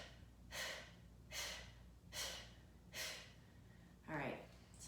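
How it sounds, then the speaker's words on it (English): Five forceful kapalabhati yoga breaths are pushed through the nose in an even rhythm, each a close, sharp whoosh separated by short pauses. "5 breaths, inhale through the nose."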